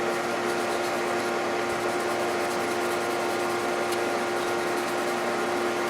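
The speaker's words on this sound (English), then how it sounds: "this sandpaper is so fine. 1500. I mean, this is what you wet sand paint with." Wet sanding with fine 1500-grit sandpaper makes a steady, close, soft rubbing rasp that runs continuously, with no voices.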